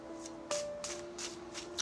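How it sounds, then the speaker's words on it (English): Tarot cards riffled in a few quick shuffles, crisp papery bursts spaced roughly a third of a second apart, close and fairly quiet with no talking. "3 more shuffles"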